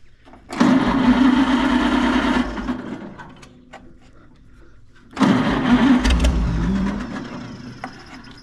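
An antique Oliver Super 77 tractor with a tired, worn engine runs in two loud bursts, chugging with a rough, uneven idle and dropping to a quieter rumble between them.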